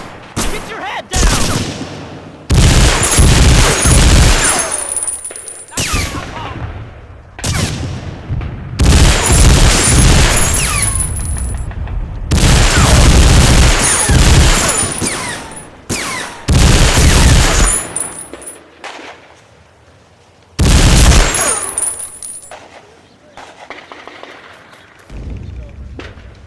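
Loud, rapid bursts of rifle and machine-gun fire mixed with heavy booms ring out in a World War II combat scene from the video game Medal of Honor: Frontline, with shouted voices heard between the volleys.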